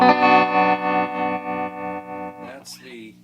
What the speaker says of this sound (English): Fender amp itself has what they call vibrato, but it's really tremolo. So as we turn the intensity up,